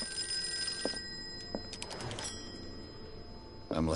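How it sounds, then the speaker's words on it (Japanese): A telephone bell rings in a horror video game, a trilling electronic ring near the start over a quiet hum, followed by a few door-like clicks and shuffling sounds. "電話。"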